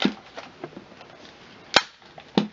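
A stapler drives staples into fabric on a small footstool, giving two crisp, close snaps about half a second apart, with light handling rustles in between and no talking.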